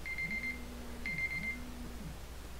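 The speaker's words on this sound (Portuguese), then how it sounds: "Alarme chato." Alarm beep in the Brasfoot football manager video game: two quiet electronic two-tone beeps in an even repeating pattern over a low background hum, with no talking.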